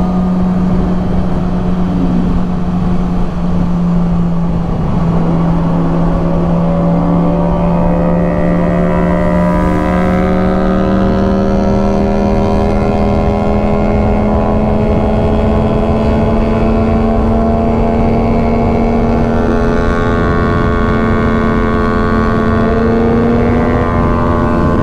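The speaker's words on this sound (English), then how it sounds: "Riding on this thing on the highway, man, this is, I forget how fun of a bike the R6 is." Yamaha R6 sport motorcycle cruising on a highway, its engine droning steadily with a rising whine as it holds speed, loud and close under constant wind rush.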